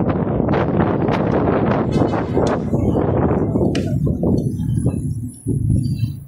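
Strong wind buffets the microphone during a bike ride toward the Gil-Puyat LRT station, in loud, roaring gusts that ease off toward the end, with faint rustling underneath.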